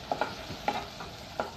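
Recado aromatics and tomato sautéing in a pan for buko soup with malunggay: a few soft scraping stirs over a faint, steady sizzle, quiet and close, with no talking.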